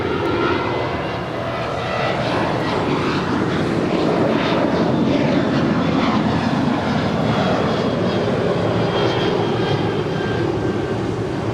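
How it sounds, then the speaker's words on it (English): Boeing 737-800 airliner departing LAX, a loud, steady jet engine roar with broad rushing noise that swells slightly as the plane passes, no speech over it. "heading to Cabo. It's a 737-800"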